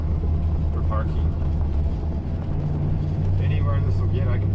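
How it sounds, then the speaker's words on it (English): A car turning around to park gives a steady, close, low engine rumble that holds an even level throughout, with faint higher noises drifting in the background. "Turning around with the car for parking."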